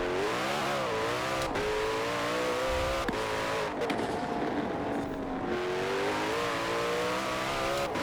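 Koenigsegg Jesko in Forza Horizon 4 racing at full throttle, its engine howling continuously with pitch sweeping up and down through gear changes and brief sharp shift cracks, loud and close.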